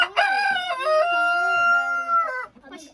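A village rooster crows once, loud and close, a long drawn-out call that rises and holds before trailing off, heard alone with no talk over it.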